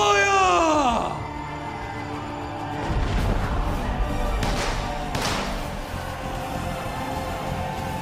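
Cannons are fired during a pirate-themed dinner show: a falling whistle-like tone gives way to several heavy booming bursts over a noisy, reverberant crowd.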